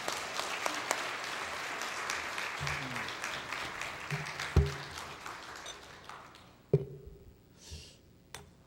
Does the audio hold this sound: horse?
no